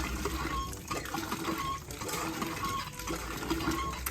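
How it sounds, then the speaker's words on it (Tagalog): Water gushes strongly from a hand-operated water pump at a rural home, a steady, close, rushing flow that continues without pause. "Ay, malakas yung linig tubig."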